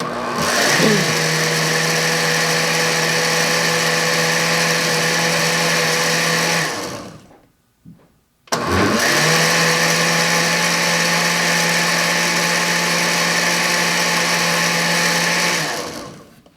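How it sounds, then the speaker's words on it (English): Blender whirring steadily as it mixes coquito, the Puerto Rican coconut Christmas cocktail, running loud and close for about seven seconds, cutting out briefly, then starting up again for another long, even blend. "we'll give this a quick blend first of all"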